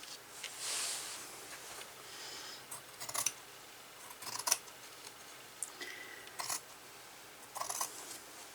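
Scissors trimming a hand-embroidered tray tablecloth, a quiet run of scattered crisp snips and light rustles of fabric, close and faint with pauses between cuts.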